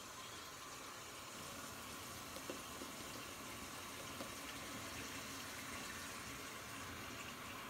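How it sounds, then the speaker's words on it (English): A bathroom sink tap runs steadily, a soft continuous stream of water filling the basin before a shave, faint and distant, with no talking. "Oh, I got to have water on the sink here."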